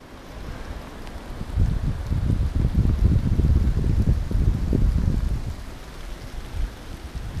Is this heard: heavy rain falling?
yes